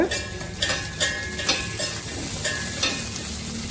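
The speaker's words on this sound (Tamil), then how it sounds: "எண்ணெய் சூடாகிருக்கு. இப்போ நான் இந்த வேர்க்கடலை பருப்பு இவ்வளோ போட்டிருக்கேன். அப்புறம் அது கொஞ்சம் நல்லா வறுபடட்டும்." Peanuts and lentils crackle and sizzle steadily in hot oil, with occasional scraping stirs of a utensil against the pan at close range, continuous throughout with no talking.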